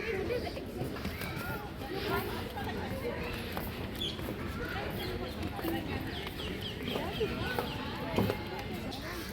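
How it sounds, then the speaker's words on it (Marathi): Scattered bird calls and clucking chirps ring out over a steady outdoor hum on the elevated nature trail at Malabar Hill, Mumbai, with muffled voices in the background. "पक्ष्यांचा आवाज हा हा एक नंबर मस्त वाटतंय"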